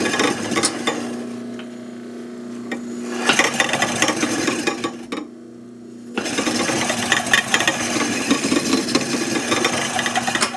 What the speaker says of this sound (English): it's starting to hone now